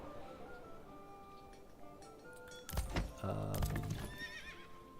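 A horse whinnies in the medieval city-building game Manor Lords, a loud, shaky neigh lasting about a second over quiet background music and clinking game sounds.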